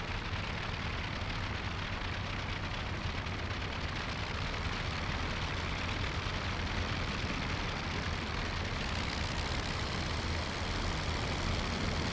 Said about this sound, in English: Start, engine, start.